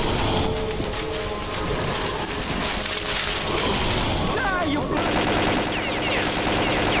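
Sustained automatic gunfire in the shooter game S.T.A.L.K.E.R. Clear Sky, dense rapid bursts running throughout at steady loudness, with game ambience and faint talk underneath.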